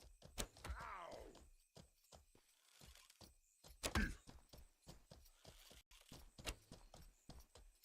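Horse hooves clip-clop in a steady, rhythmic walking beat in the survival MMORPG Mortal Online 2, fairly close and clear, with a brief whinny-like sweep early on and occasional thuds mixed in.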